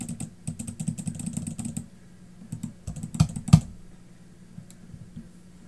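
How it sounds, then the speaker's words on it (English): Rapid bursts of clicking from a computer mouse during a Roblox clicker game, sharp clustered taps near and fairly loud, with brief pauses between flurries and no talk. "Stop clicking, bro."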